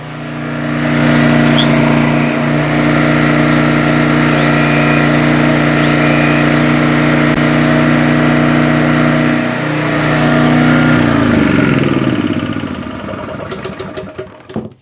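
A small-engine portable generator runs steadily at a close, loud, even hum for most of the clip, then shuts down and sputters to a stop near the end.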